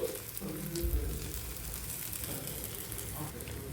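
An egg dish fries in a pan, giving a fairly quiet, steady sizzle and crackle that hisses on throughout.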